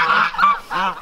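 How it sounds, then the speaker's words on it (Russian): Several geese honk close by, calling in overlapping bursts as a flock is chased away from a village river. "Гусей опять выгнали с речки."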